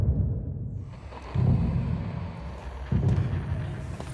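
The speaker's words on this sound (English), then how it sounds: "we suddenly hear explosions happening nearby" Deep booming explosions from a Minecraft music disc, with two or three heavy low blasts that swell and rumble in turn, loud and spaced a second or so apart, with no talk.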